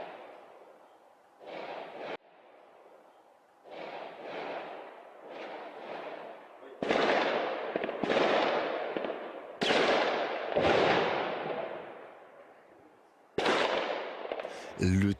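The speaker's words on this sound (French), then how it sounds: "Des rafales, des explosions, des vitres qui éclatent, des murs qui tremblent." Bursts of automatic gunfire and heavy explosions during the November 2015 Paris attacks, loud and close with sharp broadband blasts repeating at irregular intervals, some reverberating and decaying, with voices mixed in.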